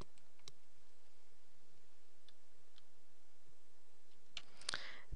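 A computer mouse clicks on an icon, producing a few faint, sparse clicks spread across a quiet stretch, with a slightly louder cluster of clicks near the end.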